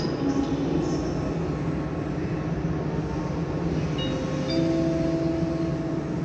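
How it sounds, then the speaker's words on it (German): An IC 241 intercity train arriving at a platform in Berlin Hauptbahnhof, a steady rolling rumble of railcars with faint wheel squeals and tonal whines building near the end. "Caution, the train is arriving."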